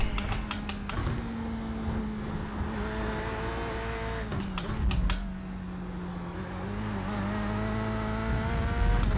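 A Corvette C8.R GTE race car in a racing video game powers out of a corner. Its engine note holds and then climbs as it accelerates, with a clatter of keyboard tapping over it.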